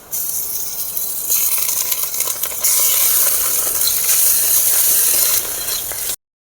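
Garlic and ginger paste frying with chopped onion in a pan, a steady bright sizzle that swells louder partway through, with occasional scraping of a spoon, no voices.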